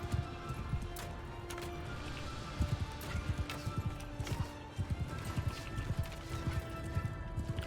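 Cavalry horses gallop in a Realm of Thrones medieval battle game, with steady rapid clip-clop hoofbeats over a dense background of battle noise and occasional neighing.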